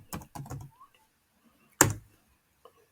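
A computer keyboard clacks in short bursts of quick keystrokes, then pauses before one firmer key strike and a faint tap, all close and quiet with no voices.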